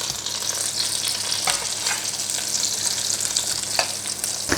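Schnitzel frying in a pan of hot oil, a steady close crackling sizzle with small pops throughout and no voices.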